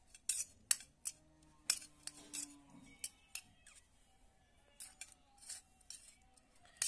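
A spoon stirs food colouring into sugar syrup in a bowl while tutti frutti is made at home, giving sparse, irregular sharp clinks against the bowl, close and fairly quiet, with soft rustling between them and no talk.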